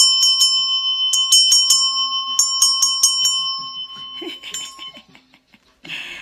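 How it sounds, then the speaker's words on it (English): Small bright bells ring in quick clusters of tinkling strikes, loud and close, trailing off into scattered softer jingles before a brief rustle. "Hey, little bells."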